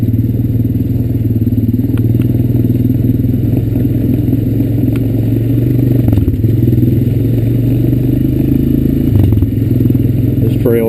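A Honda Recon ES ATV rides along an overgrown farm trail, its mid-pitched engine droning steadily and loudly close by. Clattering and scraping from the rough ground run under it the whole way.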